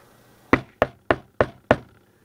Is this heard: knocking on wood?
yes